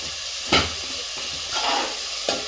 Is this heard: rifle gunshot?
no